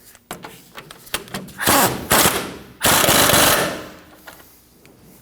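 An upper ball joint nut on a 2009-2014 Ford F-150 front steering knuckle being tightened: a few loud, rapid, rattling bursts, near and fairly long, separated by short pauses.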